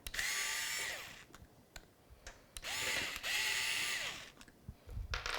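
A power screwdriver tightens screws inside a Corsair PC case, giving two whirring bursts with brief clicks and handling noises between them, close and fairly quiet.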